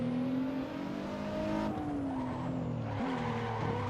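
Car drifting in the Assetto Corsa racing simulator, a steady engine drone with sustained tire squeal whose pitch wavers and slides through the turn, loud and continuous.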